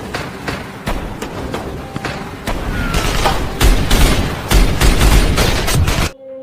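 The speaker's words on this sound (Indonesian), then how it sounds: "Baku tembak tak terelakkan." Gunfire in a film shootout between a lone robber and police, with rapid sharp shots and heavy booms in bursts that grow louder toward the end, then cut off abruptly.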